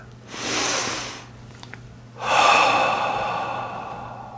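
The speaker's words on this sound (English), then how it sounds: "take a moment, breathe." Two slow, deep breaths, a soft airy inhale that fades, a short pause, then a longer, fuller exhale or second breath, close and alone without speech.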